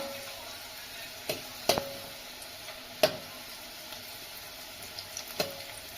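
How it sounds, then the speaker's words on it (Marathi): Garlic frying in a pan makes a faint, steady sizzle, broken by a few sharp clicks and taps from utensils, heard up close and quiet. "त्याच्यानंतर लसूण लसूण चांगला तळून घ्यायचा"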